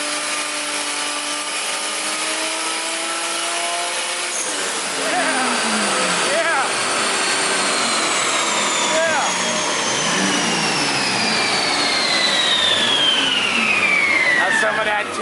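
A 2JZ engine in an RX7 runs hard under power, with a loud, sustained roar and whining tones that sweep and fall as the engine winds through its revs.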